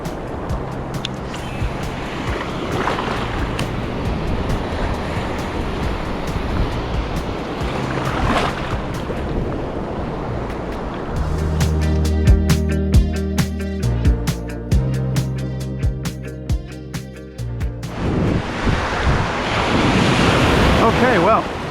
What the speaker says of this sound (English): now the waves are picking up. Nice sized waves, but it's not choppy at all.